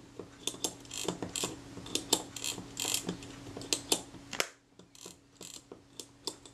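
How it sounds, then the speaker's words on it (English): Metal spanner clicking and ratcheting against the flats of the take-up spool on a Kodak Retina type 010 camera, a run of small close, sharp mechanical clicks and taps in uneven rhythm, with a quieter stretch near the end. "Find the spanner to hold on the flats on the top of the take-up spool."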